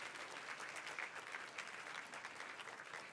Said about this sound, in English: a well-deserved round of applause for all of these ladies